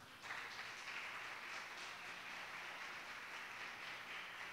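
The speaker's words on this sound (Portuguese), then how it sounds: "Quantos podem aplaudir ao Senhor nesta noite?" A church congregation applauds during an evening worship service, producing a continuous wash of many hands clapping together. It sounds distant and faint, with no talking over it.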